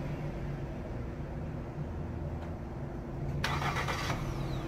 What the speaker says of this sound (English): if I go to vehicle controls and then I hit remote start